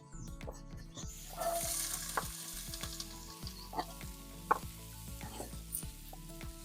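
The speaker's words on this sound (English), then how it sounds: "I like stirring my onions in a little bit first" Onions sizzle in hot beef tallow over an open fire, with scraping stirs and occasional utensil knocks against the pan, close and fairly quiet.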